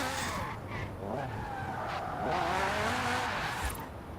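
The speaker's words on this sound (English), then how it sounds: "It started wheel spinning as soon as it hit it." Car wheels spin in the Forza Horizon 4 racing video game, giving a continuous tire squeal and skidding whine over engine noise for a few seconds, with no talking.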